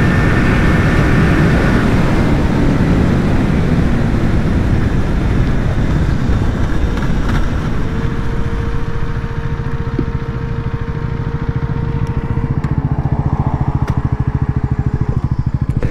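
A Bajaj Pulsar NS400 motorcycle accelerates hard in a drag race, its loud, continuous engine roar filling the scene, joined partway through by a rising, steady engine whine as speed builds, with no talk.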